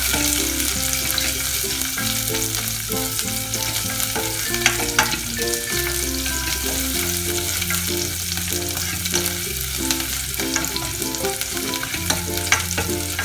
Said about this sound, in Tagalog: Halo-haluin lang hanggang maluto yung onion.